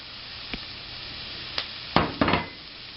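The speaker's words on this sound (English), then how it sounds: "Now we'll put the mushrooms in." Mushrooms tossed into a very hot sauté pan, a faint steady sizzle broken by a few sharp clacks and scrapes of utensil on pan, no voices.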